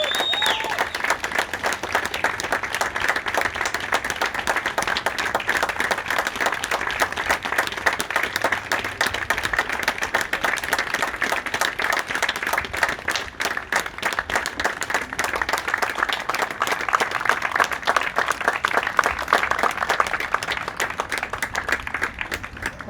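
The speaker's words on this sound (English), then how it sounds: "Stand up for a last round of applause" Sustained applause from a school assembly audience standing to honour departing Year 6 leavers, dense and steady clapping filling the hall for over twenty seconds without a break.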